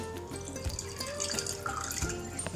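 Water added to papdi gathiya batter mixture in a home kitchen, a close, steady trickling and splashing pour with small drips, running throughout without speech.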